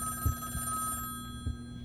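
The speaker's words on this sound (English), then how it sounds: "Somebody answer the phone." A telephone ringing in the video game Sally Face, a sustained electronic bell tone that cuts off partway, with a few dull thumps underneath and no speech.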